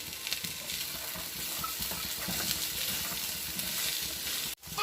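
Carrots and cooked green peas fry in a pan for a samosa filling, giving a steady close sizzle with scraping stir noises throughout, no voices, cutting off abruptly near the end.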